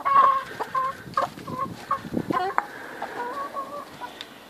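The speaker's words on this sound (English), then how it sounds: "that's the chickens" Backyard chickens in a feeding frenzy cluck and squawk in quick, overlapping bursts close by, with no talking over them.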